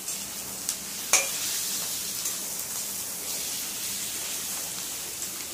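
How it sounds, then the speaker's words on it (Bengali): Meat fries with softened onions in a pan, giving a steady close sizzle like light rain, broken by a few faint clicks of a utensil. "মাংসটা দিয়ে দিচ্ছি। এটা একটু ভাজবো ওর সঙ্গে"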